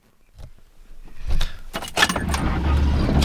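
A van starts up and begins reversing in an empty car park, the engine rising from a few clicks and clunks into a steady, building rumble close by, with no talk over it.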